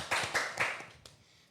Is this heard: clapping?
yes